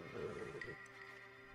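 A horse whinnies in the video game Red Dead Redemption 2, a brief quiet neigh with a wavering pitch that cuts off after under a second, leaving faint game ambience.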